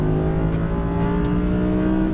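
An Audi R8 V10 at full throttle on a race track gives a rising, strained engine howl that builds over a couple of seconds, loud and close from inside the cabin.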